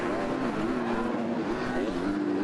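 Motocross motorcycles race at the MXGP of Great Britain, a Husqvarna among them overtaking, their engines a continuous droning roar at steady loudness with slight pitch shifts and no speech.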